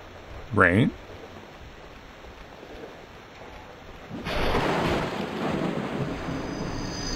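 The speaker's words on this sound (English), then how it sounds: "Rain." Stylized rain and a rolling thunder crash play in the PS1-style demake game Bloodborne PSX: a brief sharp burst near the start, then a steady wash of rain swelling in and holding through the rest.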